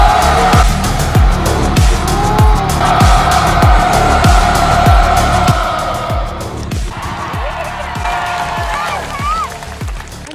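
Dirt bike engine revving hard during an outdoor jump stunt, a loud, rapid series of throttle bursts that fades slightly toward the end, with shouting and excited voices over it.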